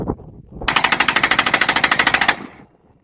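A short-barrel AR rifle chambered in 7.62x39 fires a rapid burst of about twenty evenly spaced, loud, sharp shots in under two seconds.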